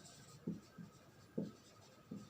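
Chalk or marker writes on a classroom board in a few short scratchy strokes, spaced irregularly, close but faint, with no talking.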